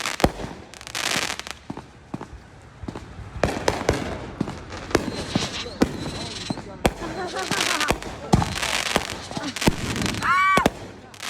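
Backyard fireworks set off in a neighborhood: a rapid, irregular series of sharp bangs and crackling pops, some near and loud, with a rising whistle near the end and voices heard faintly between bursts.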